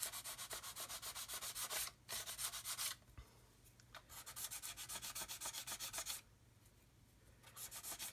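A skinny sanding stick rubs rhythmically back and forth on the underside wing root of a plastic model aircraft, a steady close raspy scratching in repeated bursts with brief pauses.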